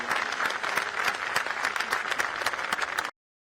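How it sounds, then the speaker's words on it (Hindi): Loud applause from the audience at a poetry gathering in Bhopal, dense and energetic clapping from a large crowd that holds steady for about three seconds before cutting off abruptly. "जोरदार तालियां आप बताइए।"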